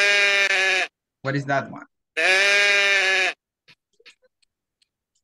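Sheep bleating: two long, loud, wavering bleats with a short spoken question between them, then quiet with a few faint ticks.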